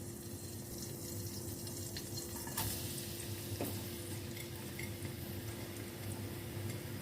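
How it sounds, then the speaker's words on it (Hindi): Onions frying in hot cooking oil in a pan, a steady broadband sizzle running throughout with faint stirring clicks, close and continuous with no talk. "कुकिंग ऑयल गर्म हो गया। अब इसमें हम प्याज डाल लेंगे।"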